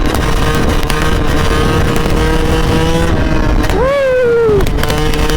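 A Suzuki RM125 two-stroke motorcycle cruises in sixth gear, its engine a loud, steady drone with heavy wind rush, and a rising then falling pitch sweep near the end.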